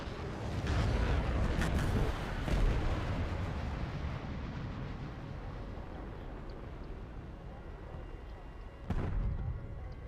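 A tank round fired from a Rocket Panzer in a video game, a heavy booming blast with rumbling decay, followed later by a second sharp impact, while a voice talks faintly underneath.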